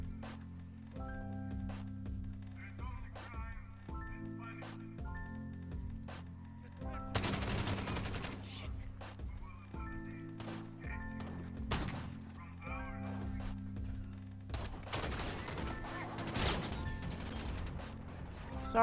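Bursts of gunfire from the Call of Duty Modern Warfare campaign, the shots arriving in clusters against a steady game soundtrack and mechanical clatter, loud and close, with talk at times.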